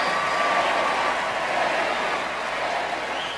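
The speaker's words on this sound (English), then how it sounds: "Imagine a packed pop culture house cheering the beautiful singing of one of the most cherished Catholic hymns of all time." A packed house audience applauds and cheers, dense continuous clapping from a large crowd at steady loudness throughout, no speech over it.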